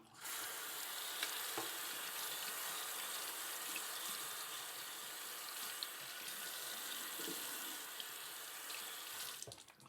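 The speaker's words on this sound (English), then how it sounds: "Just gonna rinse off the alum block." Tap water runs steadily into a sink while an alum block is rinsed, a close continuous hissing splash with a few small knocks, cutting off at the very end.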